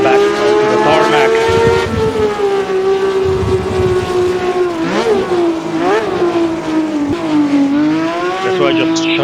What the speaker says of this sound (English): So I just shut up so you can listen to that BMW for a little bit.